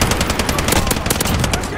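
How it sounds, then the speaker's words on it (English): Rapid machine-gun fire in Call of Duty Modern Warfare Ground War rattles continuously, with dense repeated shots close and loud throughout. "I'm taking fire!"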